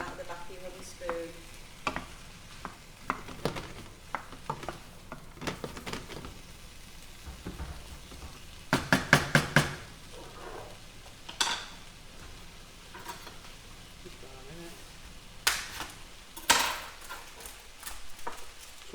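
Low-fat minced beef frying in a pan and sizzling steadily, while a wooden spoon breaks up the lumps with repeated scraping and knocking, including a dense burst of strokes midway. The sound is close and continuous, with no talking.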